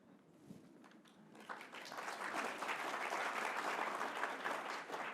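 An audience breaks into applause that builds from a scattering of claps to dense, sustained clapping, heard from a distance in a conversation hall.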